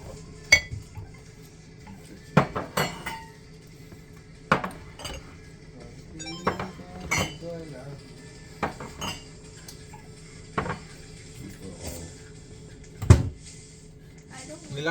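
Dishes being washed, with plates, glasses and cutlery clinking in scattered sharp knocks against a low background hum while people talk nearby.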